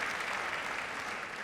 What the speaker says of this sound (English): You're getting a big round of applause here in New York for that.